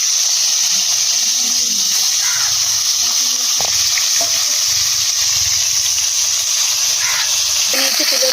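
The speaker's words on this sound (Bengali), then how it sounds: "কড়া গরম হয়ে গেছে, কড়ার মধ্যে তেল দিয়ে দেবো।" Oil sizzles in a hot kadai while fish fries, a loud, constant high hiss close by. Faint utensil clinks and soft low bumps turn up now and then beneath it.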